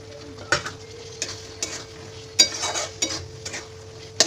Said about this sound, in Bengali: এরপর এটার মধ্যে দিয়ে দিলাম চিকেন ভাজাটা